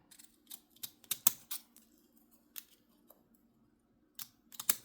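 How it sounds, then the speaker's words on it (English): Wavy-edged craft scissors snip through paper in short, crisp bursts, a handful of close, sharp cuts spaced irregularly with quiet pauses between them. "So I'm going to cut it with this, which is kind of a wavy one."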